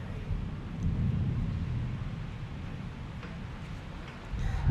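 Low rumbling thunder of an approaching storm rolls continuously beneath steady rain and some wind noise on the microphone, swelling again toward the end.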